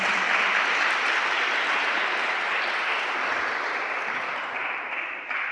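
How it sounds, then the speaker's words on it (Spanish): Church congregation applauding the Lord: a continuous wash of clapping, moderately loud and even, fading slightly toward the close. "Dele un aplauso al Señor."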